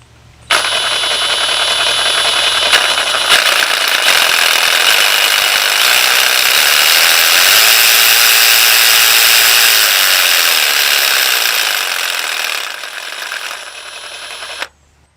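Metabo-HPT 36V MultiVolt cordless jigsaw spinning up to a steady, loud high-pitched whine at full 3,500 strokes per minute, holding for about ten seconds before easing off and cutting out, with no talking.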